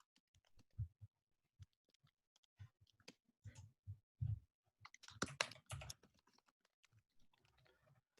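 Bursts of typing on a computer keyboard in a room, irregular clusters of clacks and taps with short pauses, fairly close and moderately loud, no talking.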